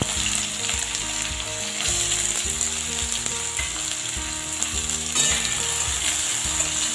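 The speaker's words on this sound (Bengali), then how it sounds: "পেঁয়াজটাকে একটু ভেজে নেব।" Chopped onion frying in hot mustard-style oil tempered with nigella seeds, a steady loud sizzle and crackle running throughout with some pan clatter and stirring, no voices.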